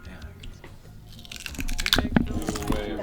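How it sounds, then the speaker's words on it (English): Crunching bites on a pickled carrot, a few sharp crisp chews building up near the microphone with faint background noise. "Ooh, I hear the crunch."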